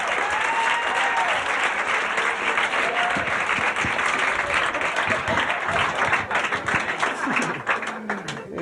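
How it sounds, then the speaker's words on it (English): Studio audience at a 1987 comedy TV show giving sustained, dense applause and cheering that stays loud and close, thinning slightly toward the end. "Let's give Kevin a big round of applause."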